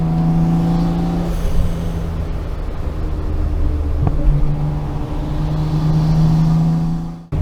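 Nissan Skyline R34 GT-R with a turbo engine holds steady, loud drone, drops with a sharp whoosh of blow-off near the middle, then builds back up, spooling close by with no talk.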